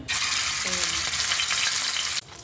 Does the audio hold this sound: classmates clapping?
no